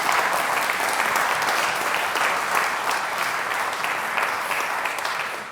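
Steady, dense applause from an audience at a community awards ceremony for nominee Esther Allen, sustained and loud throughout before easing slightly at the very end, with no talking over it.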